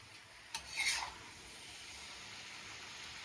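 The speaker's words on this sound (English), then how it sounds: "Stir gently" Braised noodles with garlic and spring onion being stirred gently in a pot, a brief soft rasping scrape near the start, a quiet low hiss after and a faint knock at the end.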